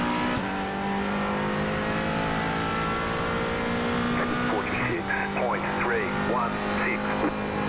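A race car engine drones steadily in iRacing as the Diet Dr. Pepper car runs a GT4 race at the Iowa Speedway Roval, with a constant motor tone and a pitch shift midway, while a voice talks over it.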